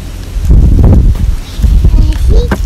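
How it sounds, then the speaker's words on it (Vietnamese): Strong wind blowing outdoors at a family campsite under cherry blossoms in Japan, loudly buffeting the microphone with a continuous deep rumble and gusting swells, with faint background sounds mixed in. "Gió quá."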